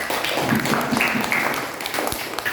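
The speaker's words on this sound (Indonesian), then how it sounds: "Tepuk tangan buat kelompok 4." Students in a classroom clapping for group 4, a dense, fairly loud burst of applause from the class that continues steadily with some voices mixed in.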